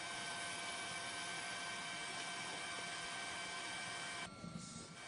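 A steady, droning news helicopter hum over Sendai, Japan, during the 2011 tsunami, with constant rotor and engine tones, which cuts out abruptly near the end.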